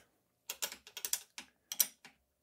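A wrench ratchets on a nut during a Rockshox Reverb C1 dropper post service, giving a close run of crisp mechanical clicks in short bursts with brief pauses between.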